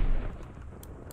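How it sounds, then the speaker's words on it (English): Gunfire in the Roblox game Ember Games: a single loud, booming shot that hits hard and then fades over about a second, with no voice over it. "They're shooting me."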